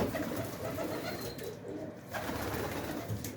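Soft, low cooing of pigeons in the distance, blended into steady outdoor background noise.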